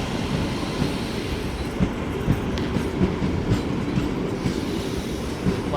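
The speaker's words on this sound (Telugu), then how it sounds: "ట్రైన్ అయితే వస్తుంది మొత్తానికి." A Kondaveedu Express passenger train rolls in close by with a continuous heavy rumble, rhythmic clickety-clack of wheels over rail joints and faint metallic squeals, with no voices.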